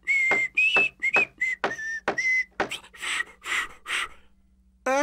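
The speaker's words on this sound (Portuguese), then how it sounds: "Meu assobio falhou!" A cartoon whistle from a Smurfs episode gives a series of short bright whistled toots, then falters into breathy, airy puffs that fail to sound, ending with a rising squeak.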